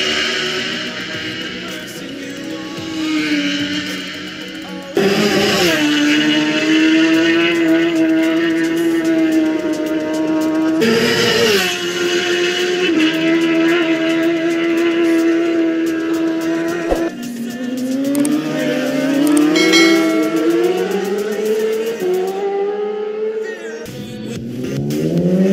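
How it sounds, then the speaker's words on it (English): A racing motorbike engine screams at full power during a high-speed road race, loud and close, its pitch rising and falling through gear changes and sustained wails across the stretch. "Oh yeah, hear the screaming of the engine giving full power."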